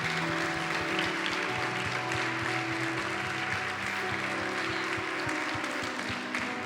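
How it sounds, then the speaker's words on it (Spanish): A church congregation applauds steadily, many hands clapping in a dense, continuous wash, fairly faint and diffuse, with no talking over it. "¿Cuántos le dan un fuerte aplauso a Dios?"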